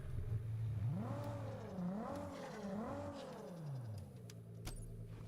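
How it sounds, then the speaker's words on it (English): A car engine revs in the racing video game Test Drive Unlimited Solar Crown, its pitch rising and falling in smooth repeated sweeps with no one talking over it. "Same engine sound, by the way."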